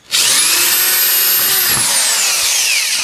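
A power drill whirs loudly and continuously close by, boring holes for a garage roof repair, its high-pitched motor pitch shifting slightly as it cuts through material.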